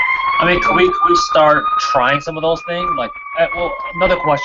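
Emergency vehicle sirens wail outside in steady high tones throughout, running beneath close, loud conversation indoors.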